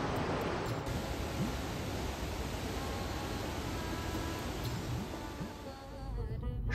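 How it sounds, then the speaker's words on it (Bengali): Dam water released from Mukutmanipur dam rushing with great force, a steady, loud, broadband roar that holds constant throughout, dipping briefly near the end. "এখন ড্যামের জল ছাড়ছে বলে এই জায়গাটায় দেখুন জলের ফোর্সটা"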